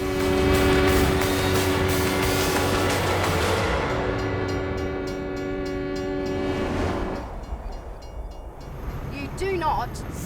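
An 80-ton road train truck drives through the Australian desert, its heavy engine rumbling loudly under sustained horn-like tones that thin out after several seconds.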